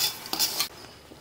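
Broken wheat dry-roasting in a pan as a spoon scrapes and stirs it, giving a dry, gritty rasp with a few clinking strokes over about a second, close and fairly quiet.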